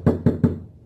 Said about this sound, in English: I'm gonna try knocking on this door again.